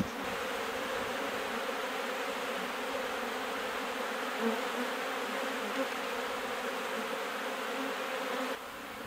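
Honey bees swarm around an open hive, a dense, continuous droning buzz that stays loud and close for about nine seconds before dropping off slightly near the end, with no talking.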